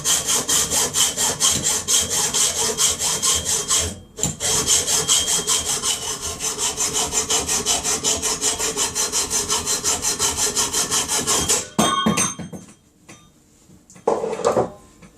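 A hand saw cuts through the metal exhaust pipe of a Hinckley Triumph Bonneville hardtail, steady rasping back-and-forth strokes up close, pausing once around four seconds and stopping near twelve before a few clanks and scrapes.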